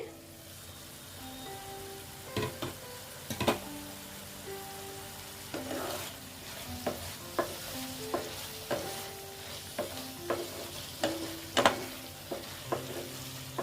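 Mustard and poppy seed paste being sautéed in a pan, with a soft, low sizzle under a series of separate scraping and knocking stirs, close by and fairly quiet, no voices.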